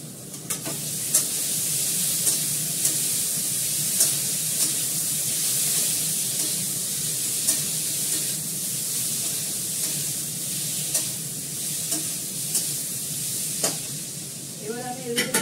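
Small home-grown eggplant pieces fry in a pan with a steady, close sizzle, broken by occasional clicks and scrapes as they are stirred and turned; a few brief voice sounds come through.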